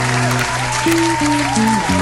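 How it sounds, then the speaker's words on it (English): Applause from a morning talk show audience, a steady wash of clapping under sustained music tones for about two seconds. "We're gonna clap it up for y'all"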